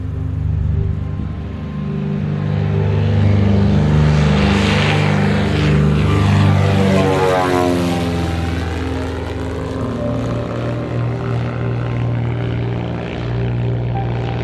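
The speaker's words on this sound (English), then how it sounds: "3 once the pilot took off." A small propeller plane takes off from remote Saunders Island in the Falklands. The loud, droning engine and prop hold steady for the whole stretch while the pitch shifts as the aircraft passes and pulls away.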